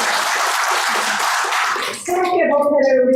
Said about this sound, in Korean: 우리 유타원님께도 크게 박수 한번